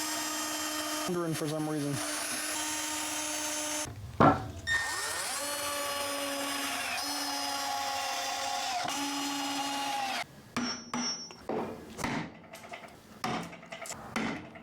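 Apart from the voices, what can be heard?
drill boring pilot holes in wood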